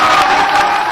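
Supporters at a Delhi municipal election rally in Rohini clap and cheer in a loud, dense, continuous crowd roar, very brief.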